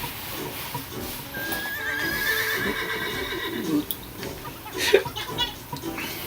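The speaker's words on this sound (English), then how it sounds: "It's a horse. Yeah. New to the Switch version." A horse in the Switch version of the video game Miitopia whinnies in a long, high neigh over a steady bed of game music, followed by a few clip-clopping hoofbeats and a sharp accent near the end.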